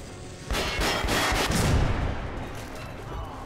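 Grenade blast in Metro Last Light Redux: a sudden loud, close explosion with a heavy rumbling body that booms for over a second, then decays into a fading roar.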